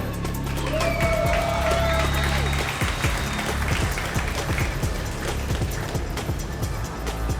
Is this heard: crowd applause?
yes